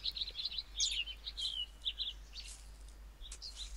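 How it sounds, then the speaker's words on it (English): Baby birds chirp in a nest in the Sago Mini Forest Flyer game, a run of short, high, bright peeps and tweets that come in clusters throughout, fairly close and alone with no talk. "Oh, some baby birds."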